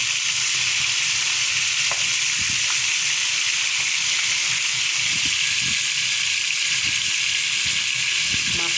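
Fish frying in oil in a pan, a steady loud hissing sizzle with faint scattered pops and light clatter underneath, continuous throughout with no talking.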